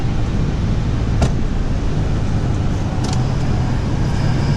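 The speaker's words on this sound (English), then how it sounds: "Put it in four-wheel drive and back up a little bit." A four-wheel drive truck backs up in sand, its engine a steady, fairly close low rumble with a few faint clicks and knocks over it.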